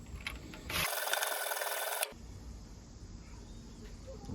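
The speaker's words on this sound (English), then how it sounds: "That's going to work its way out when I sharpen this final side here." A three-blade Woodsman broadhead being sharpened on a sharpening stone, heard as one close, steady rasping scrape lasting about a second, set between quieter stretches of faint scraping.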